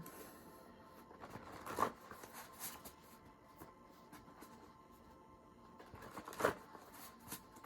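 Tarot cards being shuffled by hand, two brief riffling bursts standing out over a quiet, faint background.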